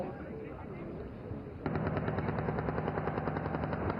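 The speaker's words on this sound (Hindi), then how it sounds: "टारगेट ग्रुप 2 पर धनुष और शारंग की भारी गोलाबारी से दुश्मन के फ्यूल डिपो और आर्टिलरी गन पोजीशन का विनाश" Dhanush and Sharang artillery fire heavily at a military exercise in Pokhran. A duller rumble suddenly gives way to a dense, rapid barrage of sharp, repeated blasts that keeps pounding to the end.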